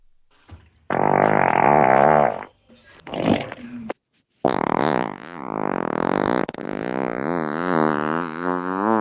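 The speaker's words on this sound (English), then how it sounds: "Is he doing multiple farts or are they farting in stereo?" Several long, drawn-out farts in a row, loud and close, with a short break between bursts and the last one wavering and stretching on.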